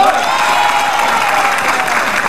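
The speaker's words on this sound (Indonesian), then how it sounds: "Tepuk tangan untuk semuanya." Studio audience applause at an Indonesian television talk show, a loud, steady wash of clapping with a little crowd noise, sustained throughout without speech.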